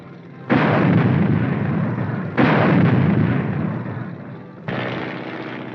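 A 1950s US Army armored force tank fires its heavy gun three times, each loud broadband blast booming out and then rumbling away slowly before the next round, with no voices.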